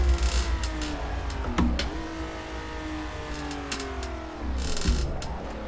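Ferrari 330 P4 racing engine in Assetto Corsa, revving then easing off as the driver lifts, with harmonics sweeping down and back up and a brief gear-change blip, steady and close throughout.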